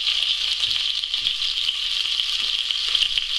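Pieces of hare frying a few at a time in a hot pan give a steady, bright, close sizzle with faint crackles and small pops throughout, and no talking.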